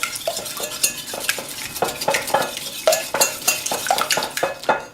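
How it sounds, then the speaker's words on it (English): Three eggs whisked briskly in a bowl for popover batter, the whisk clicking and tapping against the sides in a quick, steady rhythm, close and moderately loud with no talking. "I'm going to give them a quick whisk."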